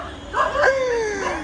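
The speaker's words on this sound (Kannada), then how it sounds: "ನಾಯಿ ಬಗಳ್ತೊಂಡ" A dog lets out a single short, high bark that slides into a yelping whine, heard close and fairly loud in one quick burst.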